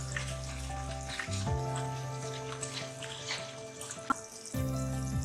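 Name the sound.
halwa being stirred and cooking in a pot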